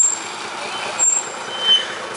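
A tour bus pulls up in York with a brief hiss of air brakes and a low idling engine rumble beneath, steady and fairly close, with a short sharp high whine near the start.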